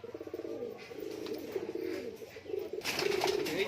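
A male desi giribaj pigeon cooing up close, repeated throaty coos in quick pulsing phrases, with a burst of rustling noise near the end.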